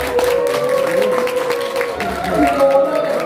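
Audience at a charity dinner applauds with steady, loud clapping over a sustained musical tone, while a voice speaks over the applause.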